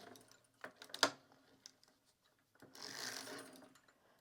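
A sock knitting machine works stitches in a few sharp clicking clacks, followed by a longer softer rasping sweep of the mechanism, close and fairly quiet.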